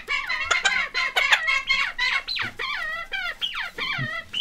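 Game chickens in a barn cluck and chatter in quick, busy bursts close by, a continuous run of short squawky calls with no talking.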